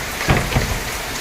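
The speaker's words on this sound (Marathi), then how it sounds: "एवढा जोरात पाऊस चालू आहे" Heavy rain pours steadily as a dense, constant hiss, with a couple of louder thuds near the start.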